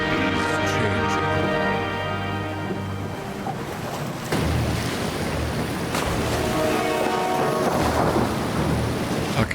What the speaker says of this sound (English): The storm rages and the seas are wild.